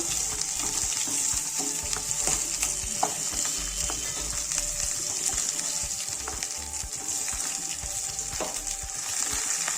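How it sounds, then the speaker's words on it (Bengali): Turmeric-coated fish sizzles in hot oil in a frying pan, a loud steady hiss up close, broken by scattered crackles and light knocks of a utensil moving the pieces. "প্রথমে মাছটাকে ভেজে নেব।"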